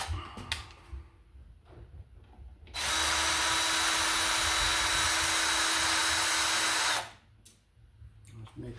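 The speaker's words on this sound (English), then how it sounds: "So we're going to unscrew this one here." A power drill unscrewing a screw while surface-wiring MC cable for commercial outlets, one loud steady whir of about four seconds after a few soft clicks and handling knocks, no talking.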